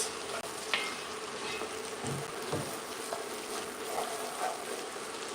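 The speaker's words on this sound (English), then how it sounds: "And we are sauteing this for 8 minutes." Carrots and onions sautéing in a pan make a steady soft sizzle with a few faint stirring clicks, close and continuous, with no talking.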